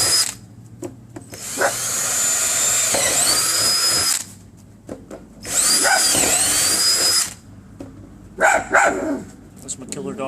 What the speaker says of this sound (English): take my drill, pop a couple holes through it